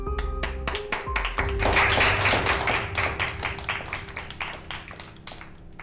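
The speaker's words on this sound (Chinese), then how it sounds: "希望大家给她掌声。" Dense applause from colleagues at an office meeting, a crowd of hands clapping close by in a steady, overlapping patter that swells early and holds to the end, with no talking.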